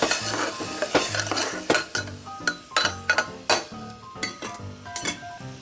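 A spoon scrapes and clinks against a pan while ground masala fries in oil for tomato bhaat, irregular metallic stirring strokes close up over a faint sizzle.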